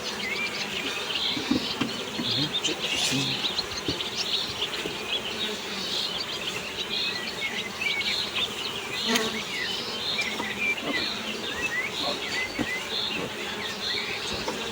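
Honey bees swarm around an open wooden beehive, a steady, dense buzzing drone close by with occasional louder passes of individual bees and faint outdoor chirps behind.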